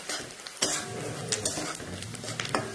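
Onion with coriander powder and turmeric being stirred in a pan for dahi dhapate, a spoon scraping and clinking against the metal over a soft steady sizzle, close and continuous, with a few sharper knocks.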